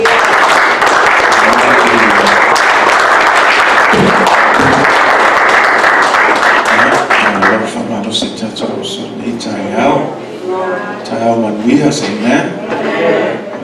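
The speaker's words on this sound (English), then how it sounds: "Let's give him a clap offering this morning." A congregation at a church prayer vigil claps in a dense, loud round of applause for several seconds, which then thins into scattered claps as voices talk and murmur over it.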